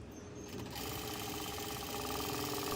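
A sewing machine stitches silk cloth, starting up after a brief pause and then running in a fast, steady whir with rapid needle clatter throughout, fairly quiet and close.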